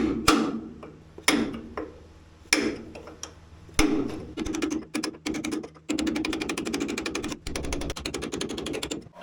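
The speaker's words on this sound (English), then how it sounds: "A cold chisel and a hammer and a bloody good swipe at this stuff." Repeated sharp metallic strikes of a hammer on a cold chisel chipping hardened Chockfast resin off a boat part in small chunks, loud irregular blows followed by a faster run of ticking taps.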